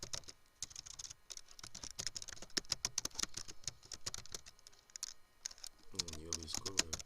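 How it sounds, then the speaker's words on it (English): Rapid, steady keystrokes patter on a computer keyboard during a CorelDRAW graphics design session, a dense close-up stream of clicks with a brief voice near the end. "Then you type whatever you want."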